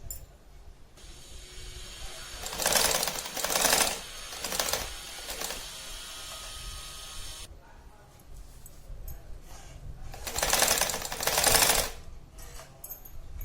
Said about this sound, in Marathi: आणि किनारी किनारीने असे शिवून घ्यायचं.